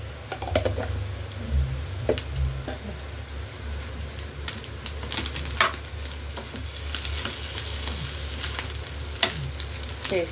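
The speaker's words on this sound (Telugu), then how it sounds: "టేస్టీ చేప గుడ్డు ఫ్రై రెడీ అయిపోతుందండి" Fish roe frying in a pan with a steady close sizzle, broken by occasional sharp pops and light stirring clicks throughout.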